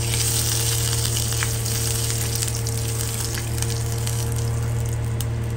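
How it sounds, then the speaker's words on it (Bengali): Cumin seeds and dried chili crackle in hot oil with a dense, continuous sizzle and scattered pops, loud and near, over a low steady hum, without speech. "তেলের মধ্যে জিরে আর লঙ্কা ফোড়ন দিয়ে দিলাম"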